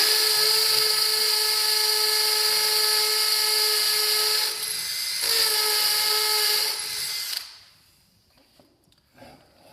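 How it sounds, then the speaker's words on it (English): A power drill bores a pilot hole for a fitting during assembly, giving a steady, loud high whine with a brief dip midway. It runs for about seven seconds, then stops abruptly into near silence, with no talking. "that first little drill that Matt did was, instead of a pencil mark essentially, just marking it"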